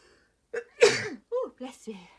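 A single sharp sneeze bursts out close by, surrounded by brief murmured speech before and after.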